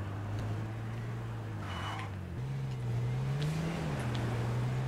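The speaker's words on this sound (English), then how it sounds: "Oh, I can hear a car." A car engine in the PS4 survival game H1Z1 hums steadily at low pitch, rising slightly in revs partway through, moderately loud against faint background noise.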